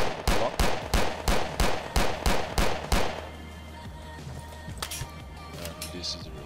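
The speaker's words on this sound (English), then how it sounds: "this is the shooting animation for the Glock" Rapid Glock pistol fire from a Unity first-person shooter game: about ten evenly spaced loud shots over three seconds, then quieter clicks and a few faint handling sounds.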